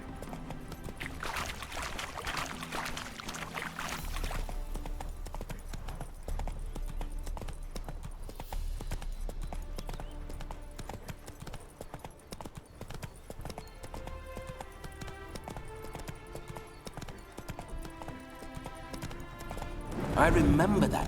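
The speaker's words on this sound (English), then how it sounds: "Spooking my horse. Roach doesn't like ghosts." Steady clip-clop of a horse's hooves in a video game, a continuous even trotting rhythm under a man's speech and background music.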